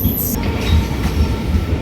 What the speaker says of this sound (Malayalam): പരശുരാം എക്സ്പ്രസ് ഇതാ നമ്മുടെ, അത് തന്നെ നമ്മുടെ തിരുവല്ല റെയിൽവേ സ്റ്റേഷനിൽ വന്നു കഴിഞ്ഞു കേട്ടോ